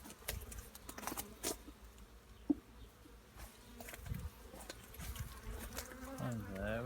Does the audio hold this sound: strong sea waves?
no